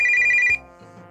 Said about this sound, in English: And then I get cut off by my phone.